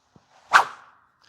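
A single sharp whoosh of a golf club swinging through the air, close and brief, in otherwise near silence.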